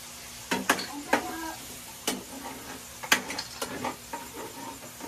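Food frying in a pan is stirred with a utensil, giving a steady low sizzle broken by several sharp scrapes and clinks against the pan, close and moderately loud.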